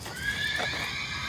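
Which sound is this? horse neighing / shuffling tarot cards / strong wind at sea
horse neighing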